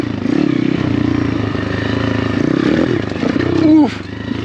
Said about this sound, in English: After riding this Apollo RFZ for the last year, I can really feel like the limitations of the bike